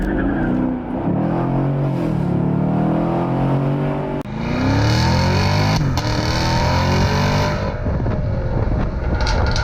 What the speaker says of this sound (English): Do a little uphill acceleration.